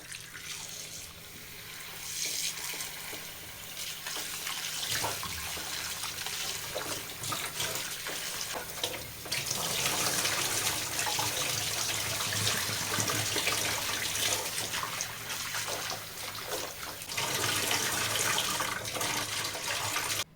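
Pieces of mutton are washed under a running tap, with water gushing and splashing steadily into a sink for about twenty seconds, close and loud with brief shifts in the flow.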